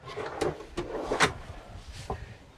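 A drawer in a campervan sliding open and shut, with a few quick knocks and rattles close by.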